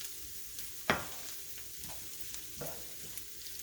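Ground meat mixture with garlic frying in a pan for a crustless taco pie, a soft steady sizzle with a sharp clatter near the start and a fainter knock later, no talking.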